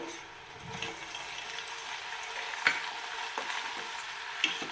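Hot oil fries moist ingredients for a homemade dandruff and hair-shine remedy, a steady, bright sizzle and crackle that holds level throughout, with occasional sharper pops and spits rising above it.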